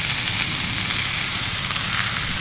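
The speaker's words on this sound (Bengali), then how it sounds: "আমড়াগুলো প্রায় এক থেকে দেড় মিনিট মতো একটু নাড়াচাড়া করে নিচ্ছি" Hog plums sizzle steadily in a hot pan while being stirred for a sour-sweet pickle, a continuous bright frying hiss with faint crackle throughout, close and alone.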